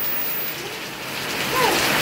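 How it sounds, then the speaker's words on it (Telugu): Steady rain falls in a village setting, a dense even hiss of drops on surfaces, close and continuous throughout with no voices. "వానా"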